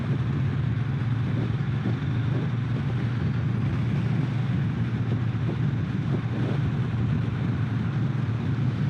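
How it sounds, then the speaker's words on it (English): A Triumph Bonneville T120 motorcycle engine runs steadily while riding, a constant low drone with wind rushing over it throughout, no talking. "Nice, clean running, very well fueled motorcycle."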